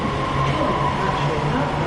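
Class 331 electric multiple unit 331011 departs Bolton station with a steady, loud, close rolling rumble and a sustained motor tone.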